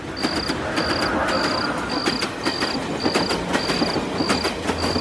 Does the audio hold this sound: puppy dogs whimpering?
no